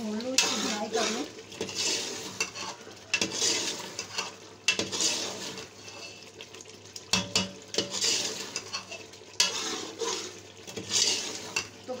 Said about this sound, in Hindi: गोश्त की बुनाई कर रही हूँ मैं इस सिलेंडर के ऊपर